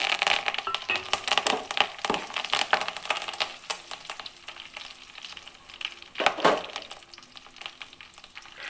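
Curry leaves hit hot oil for a brinjal and tomato curry, giving a steady crackling sizzle with bursts of spattering and a sharp flare near the middle, close and fairly loud with no talk.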